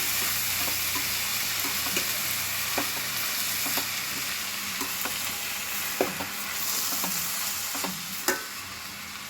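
Alternanthera sessilis (honagonne soppu) greens for bassaru stirred in a pan: a steady low sizzle broken by regular light scrapes and taps of the spoon against the pan.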